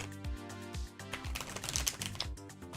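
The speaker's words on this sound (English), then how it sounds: "let's do one more shuffle" A tarot card deck being shuffled, a steady rapid riffling and flicking of cards running the whole time over faint background music.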